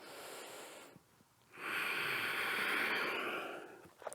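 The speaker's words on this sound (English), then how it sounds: "And then inhale." A slow, deep inhale through the nose during a yoga exercise, close and soft, rising into a sustained airy draw after a brief quiet pause, with no talking.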